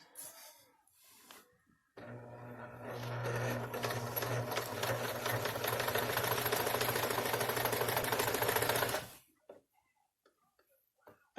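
A sewing machine stitches in a steady, rapid run for about seven seconds, a loud whirring chatter of needle strokes that starts abruptly and stops dead, with quiet handling noises before and after.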